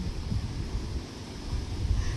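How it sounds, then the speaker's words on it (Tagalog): Strong mountain wind buffets the microphone on a foggy, drizzly, cold hillside in Tanay, Rizal, a steady low rumbling roar with gusty surges, no voices. "Tingnan nyo naman kung gaano kalakas ang hangin."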